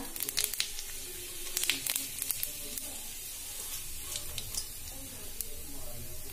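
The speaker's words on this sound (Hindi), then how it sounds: "तेल मेरा अच्छे से गर्म हो गया अब मैं इसमें डाल दूंगी छोटी चम्मच जीरा" Cumin seeds sizzle in hot oil in a kadai, a faint, steady crackle broken by scattered sharp pops over several seconds, with soft background noise.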